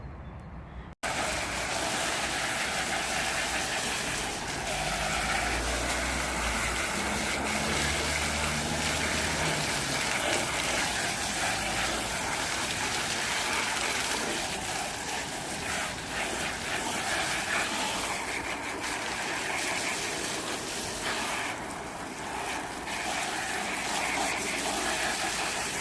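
Water sprays steadily onto the bumper of a Land Rover as it is washed, a constant close hiss and gush that runs almost unbroken for over twenty seconds after a sudden start.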